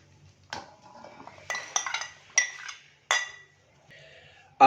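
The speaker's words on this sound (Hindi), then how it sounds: "सबसे पहले हम बड़े से बर्तन के अंदर बॉईल किए हुए आलू डालेंगे।" Boiled, chopped potatoes are tipped from a utensil into a large pot. A handful of distinct close clinks and scrapes of metal on metal come at irregular intervals, with a sharp knock at the end.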